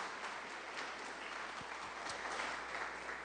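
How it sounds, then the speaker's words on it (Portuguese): During a Sunday Pentecostal-style worship service, the congregation gives a round of applause, a continuous, fairly faint and distant spread of clapping with no break. "dê uma salva de palmas para o Senhor Jesus de novo"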